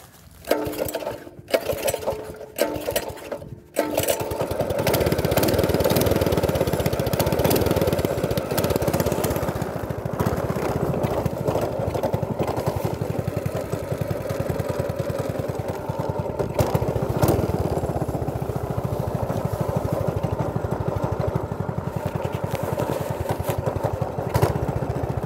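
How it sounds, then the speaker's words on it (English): A Predator 212cc engine mounted on a moped starts after a few sharp clatters and then runs loud and close, a steady rapid chugging drone that holds for more than twenty seconds without talk. "Never had this engine fired up."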